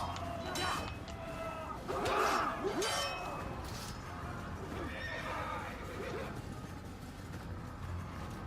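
A horse in the Assassin's Creed video game neighs twice in loud whinnies near the start, with hooves clip-clopping and soft game ambience continuing afterward.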